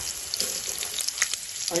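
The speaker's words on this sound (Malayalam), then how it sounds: "ഈ ചെറിയ ഉള്ളി ചെറുതായിട്ട് അരിഞ്ഞത് നമ്മൾ ഇട്ട് കൊടുത്തു" Shallots sizzle and crackle in hot oil, a steady close frying hiss with scattered sharp pops.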